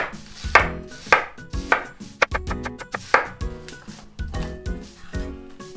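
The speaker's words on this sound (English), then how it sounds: "lastly, we're gonna cut up the onion" A knife chops an onion diagonally on a cutting board: crisp, close knocks in an uneven rhythm, some single and a quick cluster of rapid strokes in the middle, with quiet pauses between.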